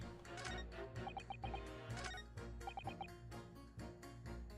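A bird clucks inside a cage in The Great Ace Attorney. Soft, repeated clucks and chirps sit under a steady musical background throughout, faint and rhythmic rather than loud.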